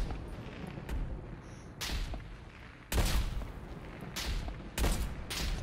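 Rapid bursts of gunfire in Call of Duty Black Ops Cold War on the Nuketown map, loud and repeated in clusters with short gaps between volleys and no talking over them.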